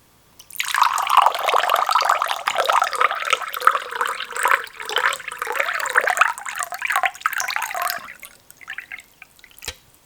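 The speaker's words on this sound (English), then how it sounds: "So let's pour that." Vietnamese coconut water is poured into a glass, a close, steady gurgling stream lasting several seconds that rises in pitch as the glass fills, then tapers to a few drips.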